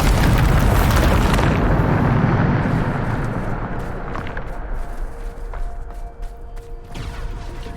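Bombarda spell explosion in Hogwarts Legacy, a loud booming blast that fills the opening seconds and then fades into a long rumbling decay, with no talking.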